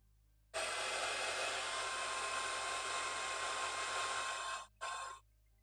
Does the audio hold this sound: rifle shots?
no